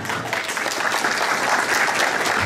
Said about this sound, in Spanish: También un aplauso para sus maestros y para sus padres